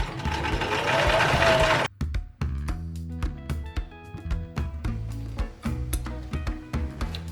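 A sewing machine stitching patchwork fabric for a spring wardrobe garment: a steady whirring run that stops abruptly, followed by rhythmic mechanical clicks and knocks of the machine working in short bursts.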